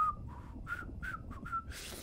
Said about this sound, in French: Oh, Pectorius, sifflote.